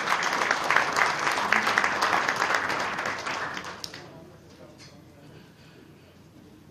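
Applause from an audience at a New Year prayer breakfast in a Suwon hotel ballroom fills the room steadily for about four seconds, then fades to quiet room tone.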